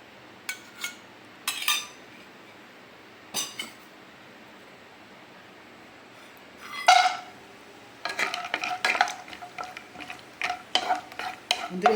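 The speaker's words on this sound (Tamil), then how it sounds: "கொஞ்சமாக நெய் ஊற்றி இந்த முந்திரி திராட்சையை நம்ம வறுத்து எடுத்துக்கலாம்" Scattered metallic stirring and scraping in a pan as cashews and raisins fry in ghee, with faint sizzling underneath, growing busier and more continuous toward the end.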